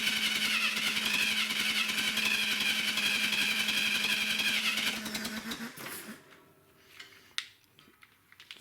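A Clark forklift engine runs steadily with a dense, buzzing drone for about five seconds, then cuts off, leaving faint clanks and rattles.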